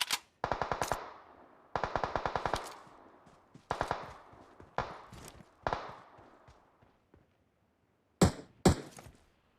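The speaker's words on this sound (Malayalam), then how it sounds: "നീ എവിടെയാ വെടിവെക്കുന്നത്?" Machine gun fire in the battle royale game BGMI, several close, loud rapid bursts followed by scattered single shots and two sharp late blasts, with no talking over it.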